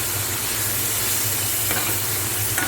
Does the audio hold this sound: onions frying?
yes